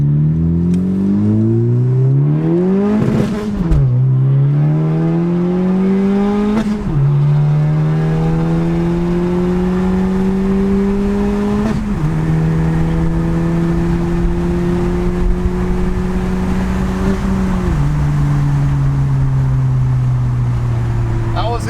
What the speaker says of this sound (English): we're getting a nice noise coming through, and it's like a sucking noise